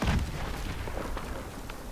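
A Panzerschreck rocket explodes in the Call of Duty Der Riese zombies map, with a loud, close boom at the start that trails into a rumbling, noisy decay. No voices.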